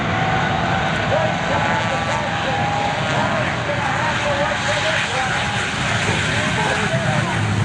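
The Shockwave jet truck, a 36,000-horsepower jet-powered truck, roars at an air show, giving off a loud, continuous, steady blast of engine noise that fills the whole stretch without pause.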